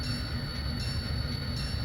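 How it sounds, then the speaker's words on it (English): A locomotive rolling up to couple with three boxcars in a rail yard, giving a steady low rumble with faint high whine, continuous and even. "Train's going to go ahead and locomotive's going to go ahead and grab those right now."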